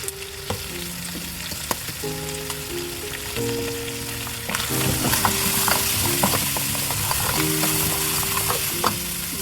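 Mutton frying in a pot with whole spices and tomato, a steady loud sizzle broken by crackles and scraping stirs, with metallic tonal rings from the pot throughout.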